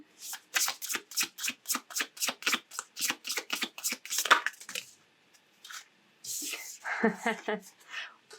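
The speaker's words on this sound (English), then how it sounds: "let's pull a couple of oracle cards and see if there's anything else they would like to add." Oracle cards being shuffled by hand, a rapid run of crisp riffling bursts, close and fairly soft, then a pause and a few more shuffles with card handling.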